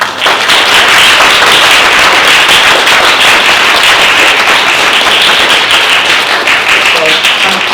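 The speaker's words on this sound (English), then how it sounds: "can we give Miss Hearn a big clap?" Audience applause at a Year 5 and Year 6 school award ceremony, a dense, steady wash of many hands clapping loudly and continuously from start to finish.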